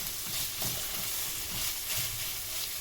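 Onion sizzling and frying in a pan for a purslane dish, a steady crackling hiss with occasional stirring scrapes, close and continuous with no talking.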